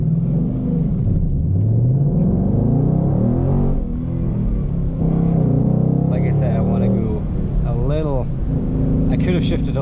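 A Ford Mustang GT Premium with a manual gearbox pulls away in first gear with a deep, steady engine rumble heard from inside the cabin, while a person speaks over it.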